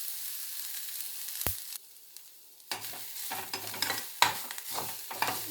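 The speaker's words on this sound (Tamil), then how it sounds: "இது நல்லா எண்ணெயிலேயே வதங்கிடணும்" Ginger, green chili and coriander leaves sautéing in oil, with spatula stirs scraping the pan in irregular bursts over a faint hiss. One sharp tap and a brief quiet gap break the sequence.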